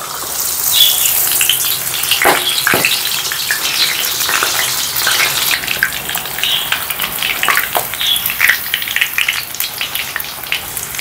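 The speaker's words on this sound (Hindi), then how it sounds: "अब इसको फ्राई करते हैं, और ऑयल जो है ना वो मैंने गर्म करने के लिए रखा हुआ है।" Spinach-leaf pakoras fry in hot oil with a loud, continuous close-up sizzle and crackle, broken by a few sharper spits and pops.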